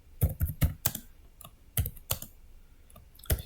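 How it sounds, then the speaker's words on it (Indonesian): Typing on a computer keyboard, a quick run of close, crisp key clicks in uneven bursts with short pauses, heard alone without voices. "ketikkan nama blok gitu ya, ketikkan nama blok"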